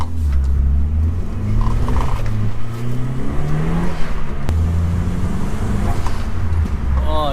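A Nissan S14 engine revs and drones continuously from inside the car while driving, pitch rising and falling with gear changes, steady and loud throughout.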